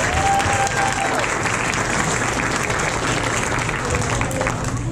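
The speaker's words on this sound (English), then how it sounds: "So one big round of applause from Buckholts ISD." Audience at a school Christmas program in Buckholts breaks into loud, sustained applause, a dense wash of many hands clapping with some crowd noise mixed in, steady throughout.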